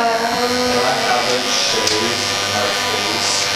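Cordless hair clippers trim a big, full beard in a barbershop, a steady close electric buzz that runs the whole time, with a voice talking over it.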